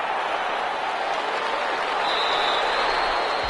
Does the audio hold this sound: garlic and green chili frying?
no